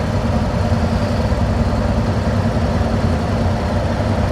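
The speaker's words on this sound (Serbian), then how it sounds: "Palio sam motor, čujete kako radi." A Harley motorcycle engine idles steadily close by on Route 66 in the US, a deep continuous rumble with an even throbbing pulse throughout.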